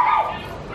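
A small teddy-bear-cut puppy gives a single short, high yip-like bark, close and brief.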